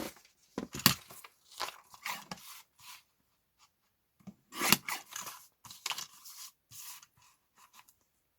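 Scissors cut through paper on a mixed-media masterboard in bursts of rough rasping snips broken by short pauses, close and moderately loud, with no voice.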